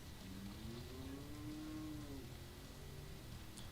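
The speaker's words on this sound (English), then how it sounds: "Oh wait, down there are cows." A single cow moos in a long, drawn-out low call in the Carmageddon racing game, faint over a steady background engine-like noise.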